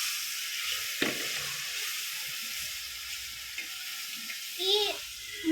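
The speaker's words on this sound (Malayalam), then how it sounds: "നല്ലോണം ഇളക്കി കൊടുക്കാൻ പോവാണ്." Adapradhaman sizzles softly in a pan while it is stirred, a faint steady hiss broken by scraping knocks and clinks, with a voice briefly speaking.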